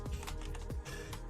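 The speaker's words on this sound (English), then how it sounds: "What keyboard do you use? Sounds a tiny bit mushy." Fast, soft keystrokes on a mushy computer keyboard tap out an irregular rhythm up close, quiet and steady with no talking.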